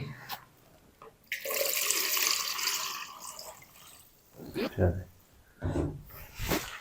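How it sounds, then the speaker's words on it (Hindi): Water pours into a pot for a chicken steam roast: a steady close splashing stream lasting a few seconds, then knocks and scrapes of kitchen utensils as a person talks. "अब हम इसमें शामिल कर देंगे पानी"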